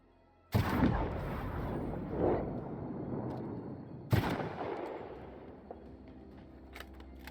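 Two loud, sharp gunshots from a weapon in The Outer Worlds, spaced several seconds apart, each with a booming echo that slowly dies away, over a quiet game background.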